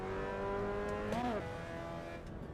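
A Mazda MX-5 engine in the racing game Assetto Corsa EVO, a steady harmonic drone that climbs briefly in pitch as it revs higher, then settles back, loud and alone throughout.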